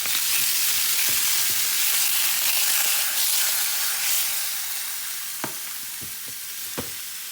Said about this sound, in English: I'm cooking rabbit for lunch, guys.